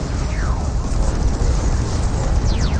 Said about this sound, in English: here comes a creeping barrage